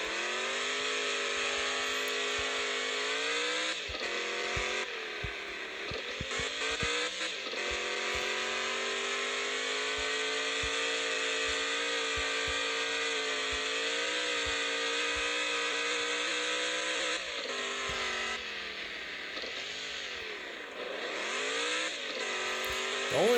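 A crawler truck in the Offroad Outlaws video game drives around in a tight circle, its engine droning steadily at a constant pitch, with brief throttle rises and falls partway through and again near the end.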